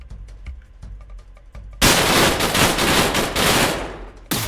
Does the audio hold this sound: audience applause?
no